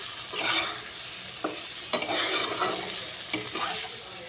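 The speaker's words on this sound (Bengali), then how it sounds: "শাক ভাজাটা হয়ে গেছে।" Leafy saag greens frying and being stirred in a pan, with soft crackling sizzle broken by several sharp scraping stirs at irregular intervals, close and moderately loud with no talk.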